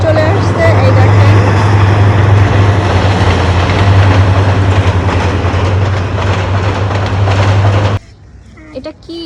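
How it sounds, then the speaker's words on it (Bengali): A train passes close to a rooftop garden on a rainy day, a loud, continuous rumble with rhythmic wheel clatter and a deep hum that holds for about eight seconds, then cuts off abruptly to near quiet. "ফাইনালি বলতে না বলতে ট্রেন চলে আসছে।"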